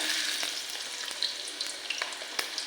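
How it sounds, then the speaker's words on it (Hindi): Chopped ginger, garlic and onion frying in hot oil, a bright continuous sizzle with small crackles and pops, brief and fairly quiet, no talking. "तो सबसे पहले इनको फ्राई करते हैं।"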